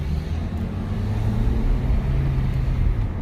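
A 2007 Honda Accord Coupe with a manual gearbox drives in a lower gear, its engine droning steadily as the revs rise, heard as a loud continuous rumble from inside the cabin, with no talking.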